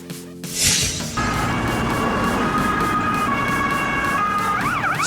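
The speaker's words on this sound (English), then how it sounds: "Sweden Police Car." A Swedish police car siren wails loudly and close, a rising and falling electronic tone over engine noise, with a sharp electronic yelp toward the end.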